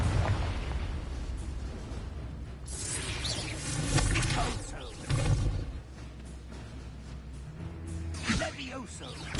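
A Confringo blast spell in a video game bursts with a couple of booming explosive thumps amid ongoing combat noise, while voices speak over the action.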